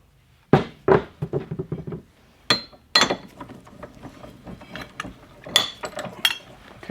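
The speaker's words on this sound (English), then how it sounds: "It goes in the vise again, gets clamped" A clutch tool for a Polaris RZR XP1000 or XP900 is clamped in a vise, giving a series of close metallic clanks, ratcheting clicks and scrapes in irregular bursts.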